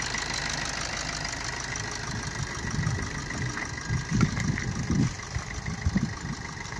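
Steady idle of a 2016 Maruti Swift VDI diesel engine, heard close with a constant low rumble and a few louder rattling pulses toward the middle, no talk.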